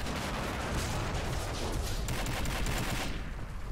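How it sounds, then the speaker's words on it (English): Artillery pounds away in the war strategy game Army Men Of War, a dense, continuous barrage of booms and crackling fire at moderate distance that thins out near the end. "The red artillery has started taking out some of the positions over here."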